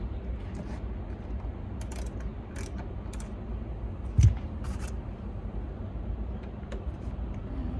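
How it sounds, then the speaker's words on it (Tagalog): A bolt is worked loose on a Volkswagen brake light assembly, giving a few faint metallic ratchet clicks and creaks close by, with one sharper knock partway through. "tanggalin mo tong bolt na to."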